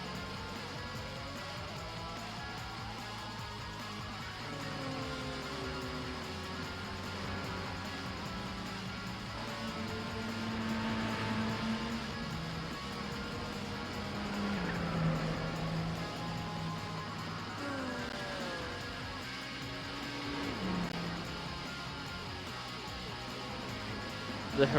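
Rival cars in the Gran Turismo 4 racing game drone and whine steadily, their engine pitches sliding up and down through gear changes in a continuous, fairly quiet blend.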